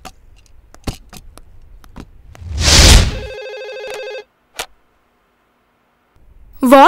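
A telephone rings once with a short burst of electronic tone, preceded by a clatter and a few scattered clicks, then silence before a voice briefly begins at the end.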